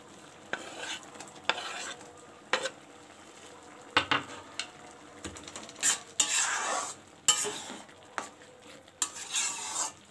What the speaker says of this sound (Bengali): এবার এর মধ্যে আমি দিয়ে দেব কেটে রাখা টমেটোগুলো